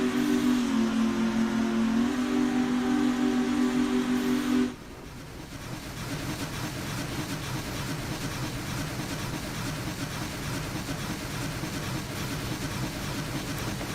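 Union Pacific-style Challenger steam locomotive in a train simulator game, working hard: a loud sustained whistle blast cuts off abruptly, leaving a steady roaring exhaust and rumble of the engine under load.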